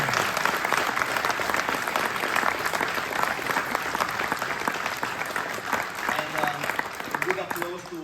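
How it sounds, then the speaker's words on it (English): Steady audience applause at a bonsai exhibition, many hands clapping in a continuous dense wash at an even level, with a faint voice near the end. "Big applause to us."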